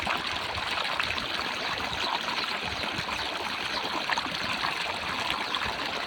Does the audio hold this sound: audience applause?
no